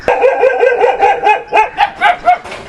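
A dog beside its new kennel on a farm barks and yips close and loud, around eight to ten quick rhythmic barks in a steady run.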